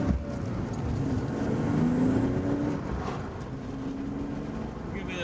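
A BMW E36 driving on a mountain touge road, with a steady low engine drone and road noise from inside the cabin, continuous throughout, while a person talks over it.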